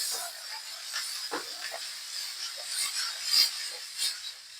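Tomatoes and peppers are added to sucuk frying in oil in a pan, giving a soft, steady sizzle and hiss with a few faint scraping and clatter sounds, and no talk.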